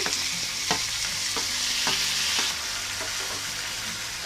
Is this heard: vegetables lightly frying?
yes